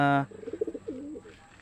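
Soft, low pigeon coos roll out in a short burbling phrase, following a brief tonal beep, with quiet background noise.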